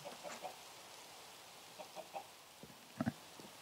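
Chickens in the Minecraft Skyfactory modpack cluck in soft, scattered bursts, with quiet clucks spread across the moment and a slightly louder pair near the end.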